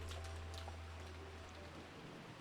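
Rain ambience from the visual novel game Umineko, a soft continuous patter of falling rain over a low steady hum, faint and even throughout with no voices.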